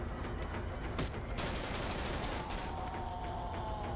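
Rapid gunshots fire in the horror video game Cry of Fear, a dense, loud burst of repeated cracks over a steady noisy background, with a few sharper shots standing out partway through.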